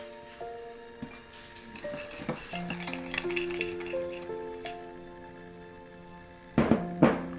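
A spoon mixes a dry spice blend of cumin powder, white pepper and garlic powder in a bowl, giving a few light clinks, with two sharper knocks near the end, all under sustained background music.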